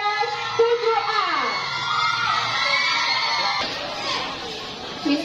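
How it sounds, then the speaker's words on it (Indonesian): A school crowd at a junior high speech contest cheers and applauds for class 7A, with children shouting and whooping in a loud, sustained wave of mixed voices. "Tepuk tangan yang meriah untuk kelas 7A."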